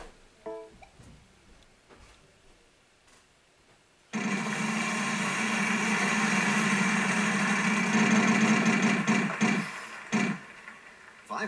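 A game show wheel spins with a steady mechanical whir that starts abruptly, holds for several seconds and then fades, following a quiet stretch.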